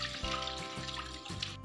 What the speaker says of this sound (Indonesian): Dicuci dengan air mengalir agar tidak ada bakteri yang menempel di daun dan